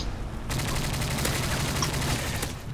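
Sustained automatic gunfire in the shooter Modern Warfare 3, a dense rapid stream of shots that kicks in after half a second and stays loud and steady, close and continuous, with no talking.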